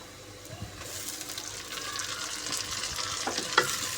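Tomato, ginger-garlic paste and green chilies frying with onions in a pot, giving a steady soft sizzle and crackle with a few stirring scrapes and taps.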